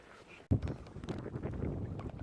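Coastal wind blows during a kayak trip. After a short quiet moment it bursts into loud, rough buffeting that keeps rushing and gusting to the end.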